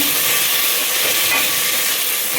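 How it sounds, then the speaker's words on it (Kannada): Chopped tomatoes tossed into a hot pan with onions for veg pulao give off a loud, even hiss of sizzling that holds steady without pause. "ಇವಾಗಲೇ ಆಗ ಹಚ್ಕೊಂಡಂಥ ಟೊಮೆಟೊವನ್ನು ಹಾಕೋತಿದ್ದೇನೆ"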